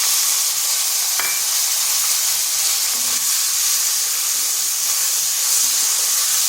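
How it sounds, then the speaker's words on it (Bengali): Chopped onion frying in a pan with whole cumin and bay leaf, giving a steady broad hiss and sizzle with a faint clink partway through. "পেঁয়াজটাকে হালকা ভেজে নিচ্ছি"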